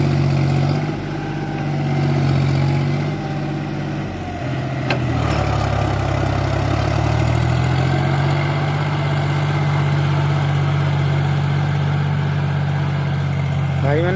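A motor pump drones steadily while watering a paddy field during a dry spell, its low engine hum loud and continuous, with a brief dip and a click partway through.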